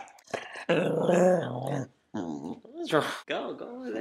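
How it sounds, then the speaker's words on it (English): A pet dog growls close by in long, rumbling bursts with a couple of pauses, mixed with yips and whimper-like sounds. A person speaks to it at the same time. "That's my dog, that's my doggy."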